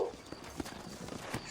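Horse hooves clip-clop in a short rhythmic run while riding in the video game Red Dead Redemption, heard close and fairly quiet.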